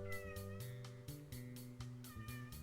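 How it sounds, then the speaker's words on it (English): Cat meowing in the dating-sim video game Hey Girlie!, several repeated electronic-sounding meows in a steady rhythm over layered game music, close and clear with no talking. "She's meowing."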